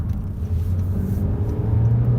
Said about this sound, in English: I just love changing gears in these cars.